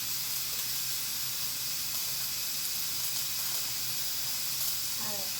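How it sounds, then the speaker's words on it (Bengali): Mustard seeds and dal tempering in hot oil, a steady close sizzle and hiss throughout, with a brief voice near the end. "ফোড়ন দিচ্ছি সর্ষে, 1 চামচ ডাল,"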